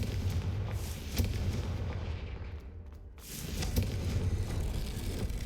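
A Confringo blasting spell explodes in Hogwarts Legacy, with heavy, loud booming blasts and a rumbling crash that dips briefly before another burst.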